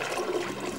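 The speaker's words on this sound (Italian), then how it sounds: "Mettiamo un paio di litri d'acqua" Water pours steadily into a pot, a soft continuous splashing gush that runs briefly and quietly with no talk.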